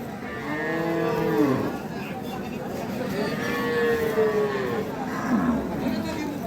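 Cattle moo repeatedly at Ambari cattle market in Dinajpur, where dairy cows and calves are for sale; three long, drawn-out moos rise and fall over a steady crowd murmur, close and fairly loud.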